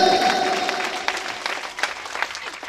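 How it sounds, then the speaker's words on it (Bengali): Audience applause at a school talent scholarship award ceremony, a short burst of dense clapping from a crowd of students that tapers off over a few seconds. "ছাত্রছাত্রীদের জোরে করে তালি"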